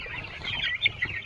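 Young chickens clucking softly together on a farm, a continuous low chatter of small peeps and clucks with a couple of slightly louder calls near the end.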